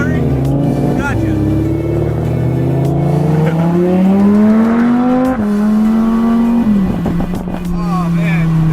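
A Lamborghini engine revs while driving, its pitch rising and falling through gear changes, loud and steady throughout, with people talking over it.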